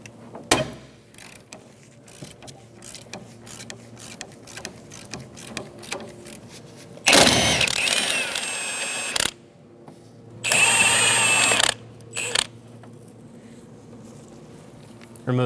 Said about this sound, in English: Using a 17mm socket, remove the two nuts on either side for the guard.